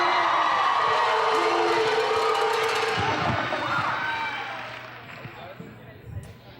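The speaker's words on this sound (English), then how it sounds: "Can we give them one more round of applause?" An AASG Fall 2013 opening-ceremony crowd cheers and applauds the pep band. The loud, roaring wash gradually fades, with a voice speaking over it.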